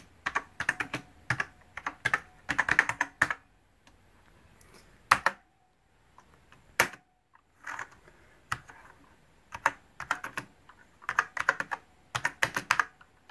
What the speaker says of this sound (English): Go ahead and type some stuff one-handed while not looking at the screen.